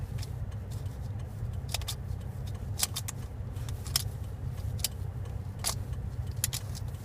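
A Shengshou skewb puzzle is turned by hand, making a run of sharp, irregular clicks and clacks, close and fairly quiet over a low steady background hum.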